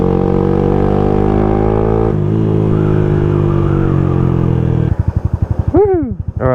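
A small motorbike engine holds a steady high-revving drone, then drops into choppy, pulsing revs with a couple of sharp throttle blips rising and falling near the end, loud and close.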